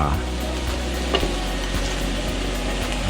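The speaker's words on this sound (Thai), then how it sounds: "นี่เราก็ผัดคั่วเข้าไป" Quail sizzles and crackles while being stir-fried with southern Thai curry paste in a pan, a steady close frying hiss with a brief scrape of stirring midway, no voice over it.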